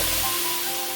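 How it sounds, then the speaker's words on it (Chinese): Cooking wine splashes into a hot pan of browning pork ribs with scallion, ginger and garlic, giving a loud, steady sizzling hiss that fills the short moment alone. "等排骨有点变色以后呢，再倒入料酒"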